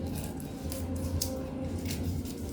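Scissors snip through a dress pattern on paper or fabric in a series of quick, close cuts over a steady background hum, with no talking.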